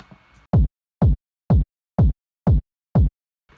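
A lo-fi house beat with an erosion noise effect adds a clicky top end. Six punchy kick hits land evenly at a steady four-on-the-floor pulse, each with a short decaying tail, after a brief quiet lead-in.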